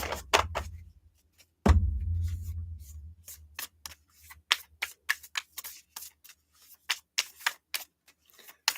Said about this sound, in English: Okay, that was a lot of cards. Let me shuffle these.